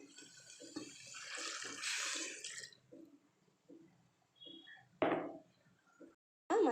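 Water poured into lentils (toor dal) in a pot for sambar, a broad splashing pour for about two and a half seconds, then quieter handling with a few sharp knocks near the end.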